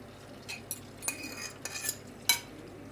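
Molokhia goes into boiling chicken broth and is stirred, with a metal spoon clinking and scraping against the pot in several sharp taps over a soft, steady simmer.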